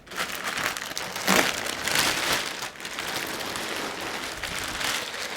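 Close crinkling and rustling as plastic wrap is pulled off a Canon 200-400 f/4 L IS lens with its 1.4x extender, steady and fairly loud throughout, with no talking.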